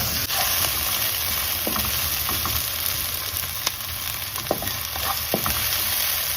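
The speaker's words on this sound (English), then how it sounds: "after you saute your vegetable" Vegetables and pepper sauté in a pan for coconut curried shrimp, making a loud continuous sizzle broken by occasional soft clicks and scrapes of stirring, with no talking.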